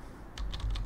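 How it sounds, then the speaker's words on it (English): A computer keyboard being typed on up close, with a quick run of about five light key clicks in under a second. "Type the web address directly,"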